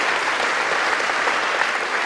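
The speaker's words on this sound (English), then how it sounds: "Give a big round of applause." A dense burst of applause from a concert audience at a classical Christmas evening performance. The clapping is full and steady throughout the short span with no voices over it.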